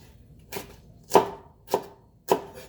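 A knife slices Brussels sprouts thinly for a stir fry: four crisp, separate cuts against a board, close and clear, with no talking.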